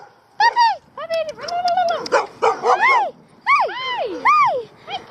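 Dogs barking close by in a yard after a wind storm, a string of loud yips and whining barks in quick uneven bursts, with a voice calling out in between.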